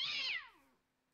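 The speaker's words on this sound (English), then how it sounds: "Oh, you show up as a cat." A creature from the Minecraft Crazy Craft mod in a jungle biome gives a single loud, cat-like meow that starts bright and slides downward, fading into a faint tail with no talk over it.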